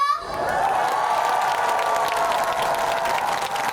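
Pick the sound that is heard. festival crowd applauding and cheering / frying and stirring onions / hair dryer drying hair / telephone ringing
festival crowd applauding and cheering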